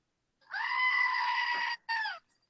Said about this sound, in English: Don't ever discount your screaming goat.